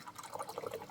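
Water is added to watercolor paint during swatching on a porch, a faint, brief wet dabbing and trickling close by, soft and quiet with no voice over it.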